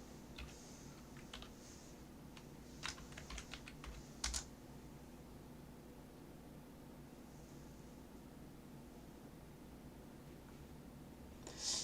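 Keys tapped on a computer keyboard while a search is typed: a few quick, faint clicks in short clusters with long quiet gaps over a steady low background hum.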